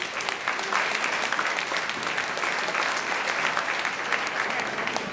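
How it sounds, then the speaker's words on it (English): A crowd at the Open Heart event in Seattle gives the hosts a round of applause, a full, steady burst of clapping at moderate loudness with individual sharp claps poking through and no speech over it. "can we please give them a round of applause"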